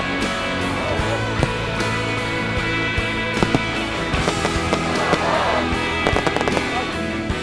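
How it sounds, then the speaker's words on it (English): Fireworks at the Hythe Venetian Fete crackle and pop in rapid, irregular bursts, some sharper bangs standing out over a dense, continuous background of distant explosions. "The fireworks marked the beginning of the illuminated pass."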